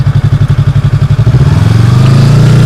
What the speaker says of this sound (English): keep my bike running and take a little break